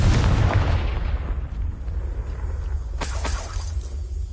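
In Hogwarts Legacy on PlayStation 5, a Confringo blasting spell goes off with a loud booming explosion that fades into a rumble, followed by a brief sharp crack.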